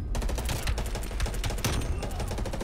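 Rapid gunfire fills Black Ops Cold War, a dense, loud burst of overlapping shots with no break throughout.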